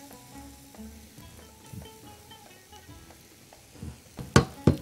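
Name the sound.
meat sizzling as it fries in a pan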